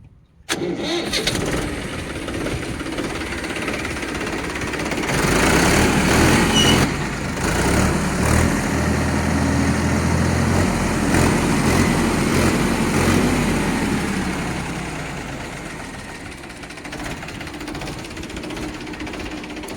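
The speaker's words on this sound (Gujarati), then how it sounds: "હવે આપણે ટ્રેક્ટરને સ્ટાર્ટ કરીને જોઈ લઈએ।" A Mahindra 295 Sarpanch tractor engine cranks and catches almost at once, revs up loudly for several seconds, then settles into a steady, rumbling idle nearby.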